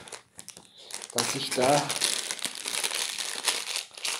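Crinkly plastic packaging of a TENS/EMS massager from Hofer/Aldi rustles and crumples loudly and steadily close to the mic, with a voice talking over the start.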